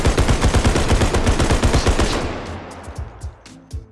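Rapid automatic gunfire from a realistic first-person shooter video game rattles in loud, evenly spaced bursts for about two seconds, then tails off into scattered single shots and echoes.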